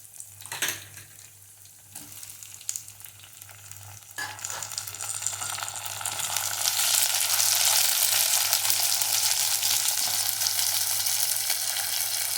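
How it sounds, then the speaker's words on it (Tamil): Ingredients for a yam curry sautéing in a hot pan, a steady close sizzle that grows louder and brighter partway through, with faint stirring clicks and a low background hum, no talk. "இப்போ இது நல்லா வதங்கணுங்க"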